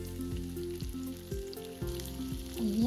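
Paneer cubes frying in hot oil in a pan for paneer butter masala, a steady close sizzle with stirring scrapes, no talking.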